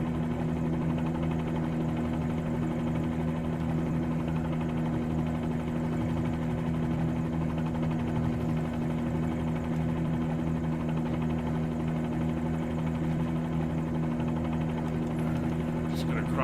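A Bell 47G helicopter engine in a flight simulator game, droning as a constant low throbbing rotor and engine hum, steady and close throughout, with a voice speaking over it at times.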